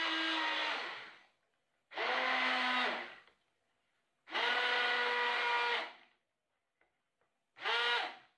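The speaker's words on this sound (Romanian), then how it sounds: "cu mixerul vertical este foarte ușor de făcut și se face foarte repede" An immersion blender mixes cold-process soap with laurel leaves, running in four separate bursts of about one to two seconds each, a close, loud motor whine with short silent gaps between bursts.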